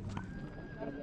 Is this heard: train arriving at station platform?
no